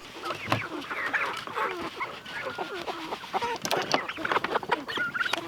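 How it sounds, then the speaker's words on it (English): Cornish cross chickens cluck and chatter steadily nearby, a busy overlapping flock with occasional sharper squawks over faint outdoor noise. "I'm getting ready to feed the chickens."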